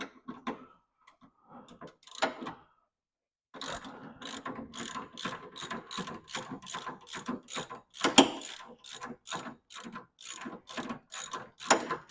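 A hand ratchet loosens a 14 mm sway bar bolt with a 15 mm nut on a BMW E30, a few clicks, a pause, then a long steady run of close, rhythmic ratcheting clicks.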